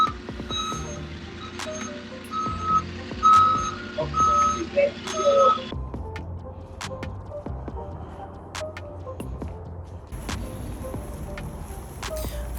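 A concrete delivery truck backs up, its reversing alarm beeping in a steady repeated pattern over engine rumble for the first half, then giving way to quieter clanks and knocks outdoors.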